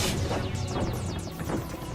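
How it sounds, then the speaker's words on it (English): A computer exploding in the Steins;Gate visual novel, a loud sustained crash and burst of noise with sweeping whooshing overtones, heard alone for about two seconds. "And explosion there was."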